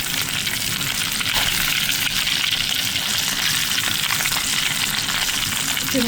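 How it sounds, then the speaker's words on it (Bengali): Hilsa fish head and a piece of the fish frying in pure mustard oil, a loud, dense, continuous sizzle and crackle holding steady throughout with no voices. "একটা মাথা আর এক টুকরা মাছ ভেজে নিচ্ছি, একদম কুরকুরে করে ভাজবো।"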